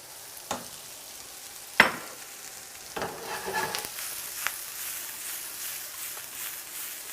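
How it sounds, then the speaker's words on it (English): Mushrooms sautéing in a pan with garlic, a continuous soft sizzle broken by a few sharp utensil clinks and a short burst of stirring. "I'm gonna saute these mushrooms until they're fully cooked."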